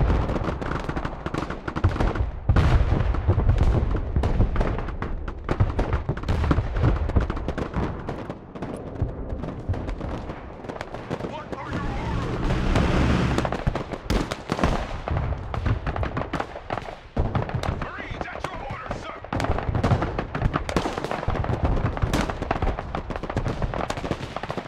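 Dense, continuous rumbling explosions and gunfire from a bombing strike in the multiplayer war game Broken Arrow, loud and sustained with thuds and crackling bursts throughout.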